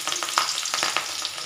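Vegetables for veg chow mein, with green chili going in, sizzle and fry in a pan, a close, steady crackle with short stirring scrapes and no talk.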